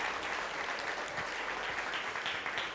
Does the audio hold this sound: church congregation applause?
yes